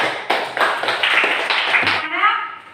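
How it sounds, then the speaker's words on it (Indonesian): A class of students clapping hands together in a classroom, a short burst of quick, uneven claps, fairly close and loud, fading out after about two seconds. "tepuk tangan untuk teman-teman"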